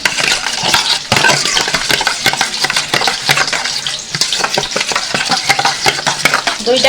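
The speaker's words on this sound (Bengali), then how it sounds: "দিয়ে সব কিছু ভালো করে একটু মিশিয়ে নেব" Spoon stirring a mix of Kashmiri chili powder, turmeric and salt in a bowl, giving close, steady scraping and clinking strokes in quick repeated rhythm with no talk.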